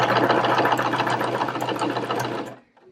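A sewing machine stitches bralette fabric in a rapid, steady, close-up whir that runs for about two and a half seconds before stopping abruptly.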